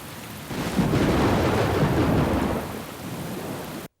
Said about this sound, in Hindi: जूनियर, बाहर बारिश होने लगी है।